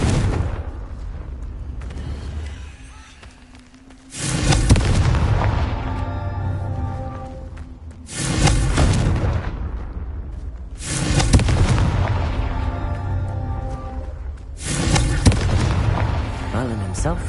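The Confringo fire spell in Hogwarts Legacy sets off repeated booming explosions, four loud blasts spaced a few seconds apart, each followed by a rumbling, crackling decay, with quieter gaps between.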